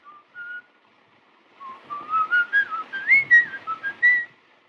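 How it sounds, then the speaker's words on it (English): A man whistles a riff from Grieg's Peer Gynt score in a Fritz Lang film, a clear, close melodic run of rising and falling notes that starts with a few sparse tones and then moves into a busier phrase. "made audible by his habit of whistling a riff from Grieg's score for Peer Gynt"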